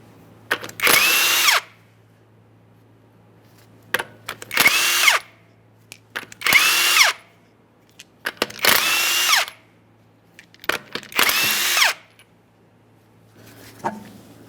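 A power tool spins the 19mm lug nuts off a Ford Fusion wheel in five loud, close bursts of whirring and rattling, each about a second long, separated by short pauses.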